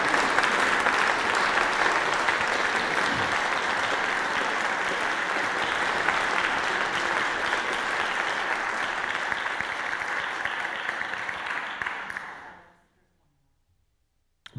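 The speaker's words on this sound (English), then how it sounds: "you are welcome to applaud the choir if you'd like" A church congregation applauds the choir after their last song, steady full-room clapping that holds for about twelve seconds, then fades quickly into silence.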